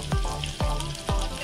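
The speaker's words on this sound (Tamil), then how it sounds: "அடுத்து வரமிளகாய் சேர்த்துக்கோங்க." Dried red chilies and small shallots frying in hot oil for rasam, a steady loud sizzle with three soft rhythmic stirring sweeps close up, no speech.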